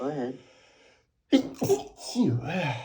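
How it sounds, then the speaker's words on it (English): A stifled sneeze during a call gives a sharp, close burst partway through. A voice speaks briefly before and around it. "I gotta sneeze."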